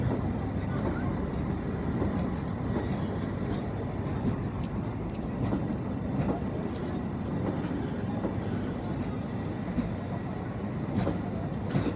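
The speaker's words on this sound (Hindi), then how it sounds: "ट्रेन अपन जनकपुर के लगी पिपराही रेलवे स्टेशन पर से निकल के शुरू भ गल छै" A train pulls out of Pipraahi railway station in Nepal, heading toward Janakpur, with a continuous rumbling roll and faint rhythmic clatter of wheels over rails, steady and fairly close throughout.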